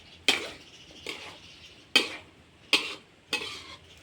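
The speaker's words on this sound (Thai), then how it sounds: "ผัดบวบหอมใส่ไข่ ผัดไข่ ใส่บวบหอม" Luffa gourd and egg being stir-fried, with five distinct spatula scrapes against the pan roughly every 0.7 seconds over a faint sizzle, close by and without talk.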